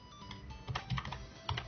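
Quick, close taps on a computer keyboard as a sudo command is entered on a Raspberry Pi, with a steady patter of keystrokes and a couple of heavier presses, quiet and without speech.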